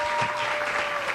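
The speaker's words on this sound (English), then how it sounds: "give them a round of applause." A congregation applauds together at a church family service, a dense, steady clapping that fills the short moment at an even level without pause.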